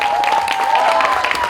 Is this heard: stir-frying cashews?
no